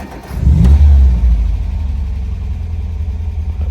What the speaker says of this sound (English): quick video of start up and idling on this MGB